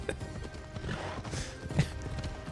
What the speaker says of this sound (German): ich habe nämlich ein fliegendes Pferd